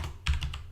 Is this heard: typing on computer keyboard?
yes